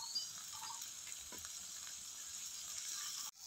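Chopped tomatoes sizzle in a pan, a faint, even hiss with a few soft clicks from stirring, which cuts off abruptly near the end.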